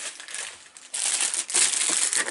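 A plastic bag holding a part-work magazine issue crinkles and rustles loudly and continuously at close range, with a few sharper crumpling surges and no talk.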